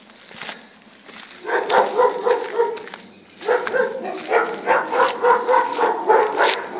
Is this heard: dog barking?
yes